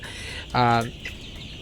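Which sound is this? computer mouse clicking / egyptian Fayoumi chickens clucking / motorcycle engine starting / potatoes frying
egyptian Fayoumi chickens clucking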